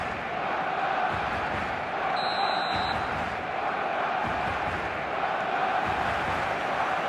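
A packed stadium crowd in the football video game eFootball 2027 roars as a steady, dense wash of noise, with a brief high whistle-like tone cutting through early on.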